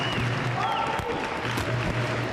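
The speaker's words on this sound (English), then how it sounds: "you can hear the crowd encouraging Aurélie Aubert" A crowd cheers and applauds a competitor at a boccia match at the Paris 2024 Paralympics. A dense, continuous wash of clapping and cheering fills the arena while a commentator speaks over it.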